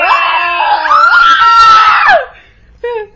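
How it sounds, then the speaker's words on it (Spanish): Shrill high-pitched screaming from several young girls, loud and wavering for about two seconds, then a short second shriek after a brief pause. "perdón por los gritos, hay muchos"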